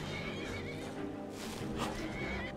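Horse in the video game Skyrim whinnying faintly under a continuous bed of game ambience, with a soft clip-clop of hooves nearby.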